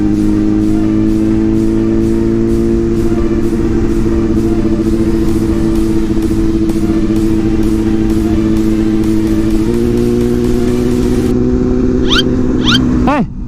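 A Honda CBR1000RR-R Fireblade SP motorcycle engine holds a loud, steady, high-revving drone with a slight shift in pitch partway through. It stays close and continuous, and a few faint chirps come at the very end.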